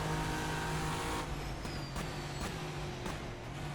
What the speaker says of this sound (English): Oh, locking the brakes, see what I mean there?